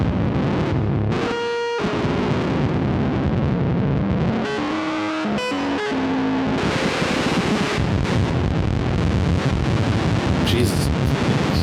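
Modular synthesizer run through an A-124 WASP filter in lowpass mode, producing harsh, distorted, gritty tones with abrupt shifts and short pitched blips, loud and continuous.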